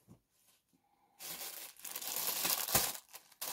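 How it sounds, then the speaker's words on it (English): Plastic packaging crinkles and crackles close up after a near-silent opening, a burst of dense rustling that keeps going with uneven crunching peaks, with no talking. "Crinkle, crinkle."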